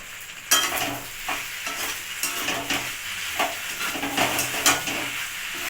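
Pasta coated in tomato sauce with chicken masala is stirred in a hot pan, with steady sizzling and repeated scraping strokes of a spoon against the pan, close and moderately loud, with no talking.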